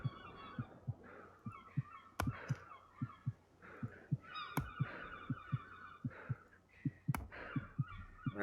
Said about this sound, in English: Hear that heartbeat? That means we're getting tired.